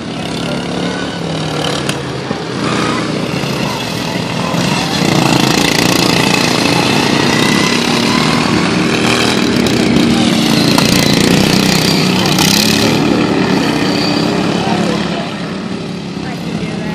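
A racing lawn mower engine drones loudly and continuously at a small-town Knappa Days 2013 lawnmower race, swelling midway as it works the course, with a commentator talking over it.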